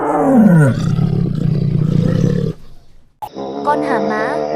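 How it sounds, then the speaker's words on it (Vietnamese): A tiger gives a loud, close, deep roar lasting a couple of seconds. After a brief quiet gap, a different tonal, wavering cry follows. "Con hổ."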